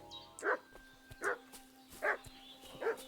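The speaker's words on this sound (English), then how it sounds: "why is this dog barking" A dog barks in the video game Kingdom Come: Deliverance II, four evenly spaced single barks at moderate distance over quiet ambience.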